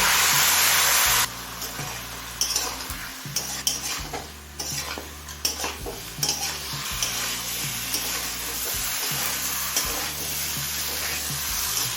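A pre-fried fish head and a little water go into a pan of frying green plantain curry, bursting into a loud hiss at first before settling into steady sizzling with continual clinking, scraping stirs.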